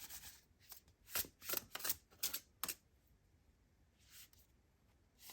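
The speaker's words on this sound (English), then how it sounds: "So let me shuffle again." Tarot cards riffled and shuffled by hand at close range in a quick run of crisp fluttering bursts, then a softer brief shuffle after a pause.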